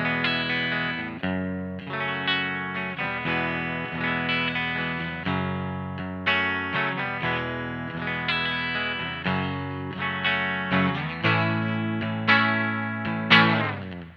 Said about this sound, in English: Pretty nice way to just add a little bit of touch of that reverb into your existing sound